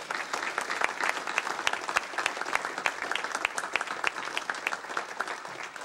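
A sports awards audience applauds warmly, many hands clapping in a dense, fluttering stream with sharper individual claps popping out, sustained evenly and without speech.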